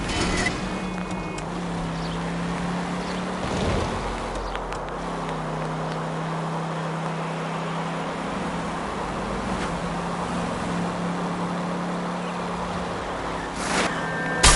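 Car driving through the streets in L.A. Noire: a steady engine drone and road rumble that carries on the whole time, broken by a few brief knocks.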